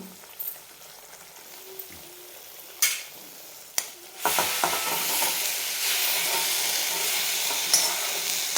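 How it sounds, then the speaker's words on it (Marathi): Fenugreek leaves tipped into a pan of gravy: a few sharp knocks and clatters, then a louder steady sizzle as the greens hit the hot pan and get stirred, close by. "हलवून घ्यायचं छान आता याच्यामध्ये टाकून घेऊ आपण ही भाजी जी आहे ती टाकून घेऊ"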